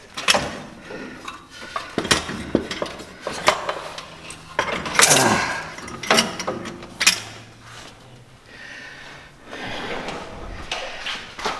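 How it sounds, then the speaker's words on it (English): Metal parts of a Can-Am Maverick X3 RC Turbo exhaust clank and scrape as a band clamp and heat shield are worked off by hand, with sharp irregular clinks, ratcheting and rattles close by, no talk. "we got to take that band clamp off and that heat shield"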